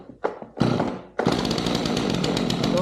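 A Stihl MS 251 chainsaw is pulled to start with the choke on: a couple of short cord-pull bursts, then the engine catches and runs loudly and steadily at close range.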